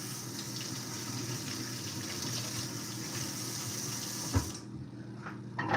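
Sweet potatoes rinsed under a steady stream of running tap water in a sink, a continuous close wash that cuts off near the end, leaving brief handling noises.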